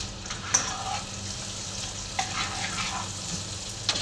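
Oil splattering in a covered pan while garlic fries for pinakbet, a continuous soft crackle and sizzle with a few sharp pops and clinks scattered throughout, no voices.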